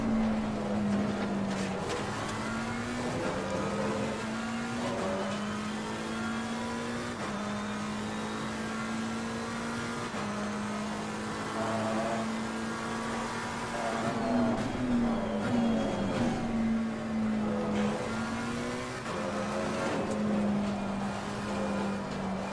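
A McLaren 720S race car at Imola in Assetto Corsa Competizione gives a continuous, loud engine drone, its pitch rising and dropping through gear changes and throttle lifts across a long stretch of racing.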